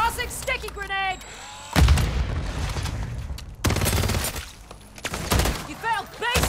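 A grenade explodes in Call of Duty: Modern Warfare Zombies on PS5, a loud booming burst amid heavy gunfire and battle noise, with shouted voices before and after.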